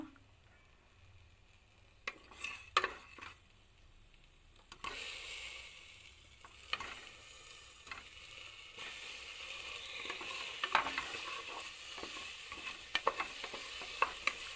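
Chopped tomato frying in a pan with cumin seeds for a drumstick-leaf soup: a soft, steady sizzle that thickens partway through, broken by scattered clicks and scrapes of stirring.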